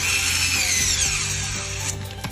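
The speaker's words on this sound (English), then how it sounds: "tighten these screws so the box tightens to the drywall" A power drill drives screws to fasten an electrical box against drywall while installing an LED mirror, giving a loud continuous whirring drone with a faint rubbing grind, no talk.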